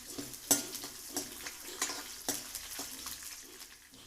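Garlic, mustard seeds, cumin and black gram and chana dal sizzle in hot oil in a pan while being stirred, with a steady crackle and scattered sharp pops and scrapes close up.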